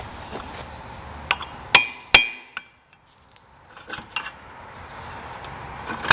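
Metal on a Ferris zero-turn mower blade spindle assembly being hammered over to bend it, two sharp ringing close strikes followed by a few lighter taps and clinks, with quiet gaps between.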